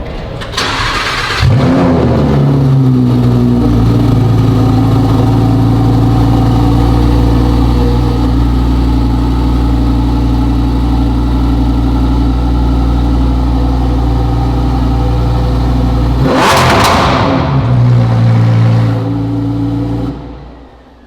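A Lamborghini Huracán STO's V10 engine cranks and fires up with a loud roar, settles into a steady, rumbling idle, then revs sharply near the end before quieting.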